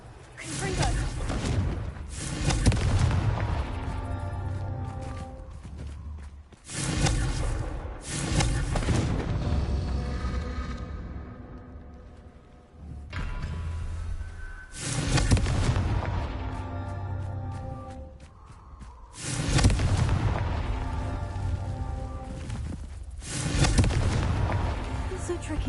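Confringo fire spells exploding in the Hogwarts Legacy video game, a series of loud booming blasts in repeated bursts every few seconds, with a voice speaking over parts of the action.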